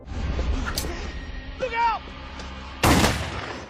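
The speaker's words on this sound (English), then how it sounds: "immediately fires the shotgun at the attacker" A shotgun fires at a knife-wielding cult attacker outside a hospital in the horror film The Void (2016), a single loud, sharp blast near the end that follows tense background sounds and a brief rising cry.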